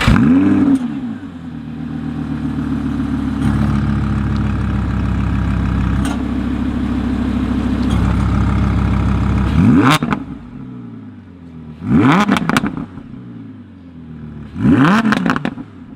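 An Audi R8 V10 Plus supercar drives off in rain: a steady, loud engine drone builds, then three separate revving bursts surge up and fall back.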